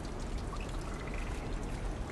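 Water rising through the pipeworks in the video game Limbo, a steady pouring, trickling wash of water that stays even throughout, no voices.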